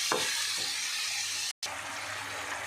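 Spice paste of onion and garlic frying in a pan, a steady close hiss of sizzling oil with a brief cut midway, no talk.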